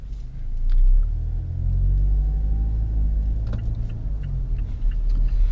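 A 2017 Mazda CX-5 driving in normal mode, giving a steady low road rumble with a deep engine drone throughout and a slight swell early on, with no talking.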